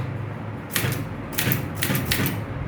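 Keys struck on a manual typewriter during a typewriting lesson, a few sharp clacks in quick clusters, close and clear with no talk.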